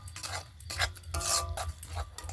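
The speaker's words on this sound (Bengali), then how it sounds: "এবারে নেড়ে চেড়ে এভাবে একটু ঠান্ডা মতো করে নেব" Hot sugar syrup for crisp sugar gaja is stirred in a pan off the heat to cool it, giving a run of close, scraping strokes in an uneven rhythm with no talking.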